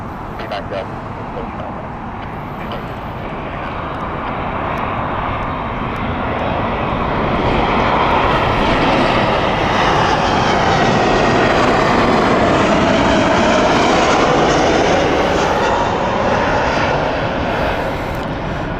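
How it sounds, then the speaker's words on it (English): A Turkish Airlines Airbus A321neo arriving at Heathrow Airport from Istanbul, its jet engines producing a loud, broad, steady roar that swells as it passes close overhead and then eases slightly, with people talking underneath. "here is Turkish with the Airbus A321neo."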